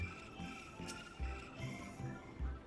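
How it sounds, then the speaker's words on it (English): A strange cricket-like instrumental sound from the Final Fantasy XIV soundtrack: soft, pulsing low thumps repeat roughly every half second under a shimmering, chirpy high drone, faint and continuous, with no talking. "It's like demented crickets."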